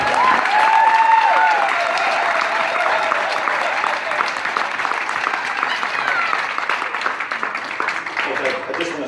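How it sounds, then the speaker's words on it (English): Wedding reception guests applaud for the couple, a loud, steady wash of clapping that holds evenly throughout with a few cheers mixed in. "So can everyone give them a round of applause for that?"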